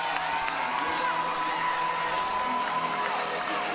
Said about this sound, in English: And that brings the crowd to its feet.